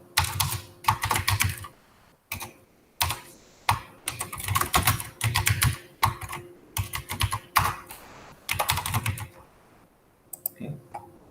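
Close, loud computer keyboard typing while CSS code is entered, in quick clattering bursts of keystrokes separated by short pauses and trailing off into a few scattered taps at the end.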